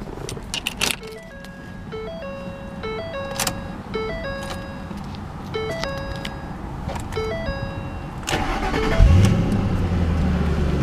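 A 2010 Ford Mustang GT Premium with the 4.6 V8 starts up. A stepped chime sequence and clicks come first, then the engine catches and settles into a loud, steady idle.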